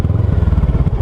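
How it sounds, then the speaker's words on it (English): A Kawasaki Ninja 650R with a Yoshimura TRC exhaust and silencer tip burbles at idle, close and loud, in a brief, steady rhythmic pulse of low exhaust beats. "I've been riding around with this exhaust now for about a week or two."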